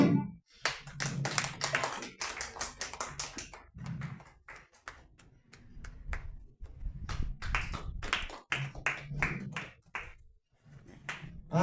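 Sparse, uneven clapping from a small gathering, with irregular bursts of hand claps and taps rising and falling in loose clusters.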